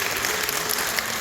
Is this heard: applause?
yes